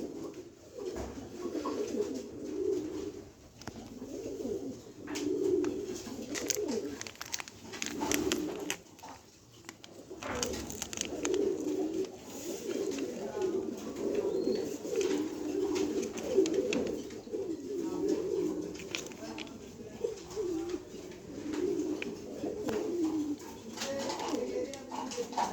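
Pet pigeons coo in soft, repeated low throbbing phrases, close by and continuous, with brief pauses and occasional rustling throughout.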